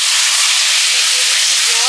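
Steady, loud hiss of steam as water is poured into a hot pan while cooking a light Bengali fish and eggplant curry, an unbroken close sizzle with no pauses.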